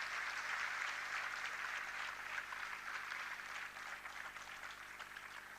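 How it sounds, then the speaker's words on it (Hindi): Sustained audience applause at an award ceremony in Indore, a dense, even wash of many hands clapping that holds steady and slowly eases off, with no talking over it. "मैं चाहूंगा सब लोग उनके लिए एक बार ताली बजाएं।"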